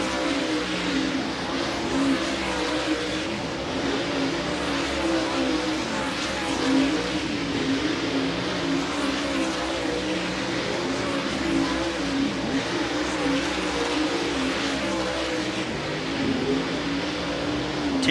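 Dirt track race cars circling Volusia Speedway Park during a hot lap session at the DIRTcar Nationals, a constant roaring engine drone heard from a distance without pause.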